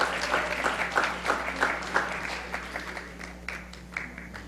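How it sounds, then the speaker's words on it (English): Applause for Franklin students at a school board meeting: a modest group of clappers in a room, moderately loud and steady, thinning out over a few seconds under a low electrical hum. "Let's give our Franklin students another round of applause."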